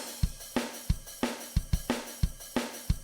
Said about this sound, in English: Nice little drum beat